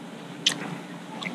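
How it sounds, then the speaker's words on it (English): A single close, wet bite into a chunk of flank beef from pho, followed by brief soft squishy chewing in a quiet room. "I'll take a bite of that."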